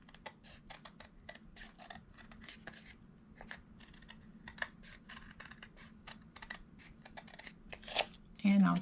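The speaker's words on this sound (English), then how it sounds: "So I am just going to trim away just a little more." Scissors trim the edge of a Dollar Tree plastic placemat in a rapid series of small, close snips, with a soft voice murmuring underneath.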